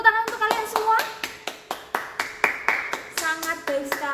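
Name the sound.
applause from presentation participants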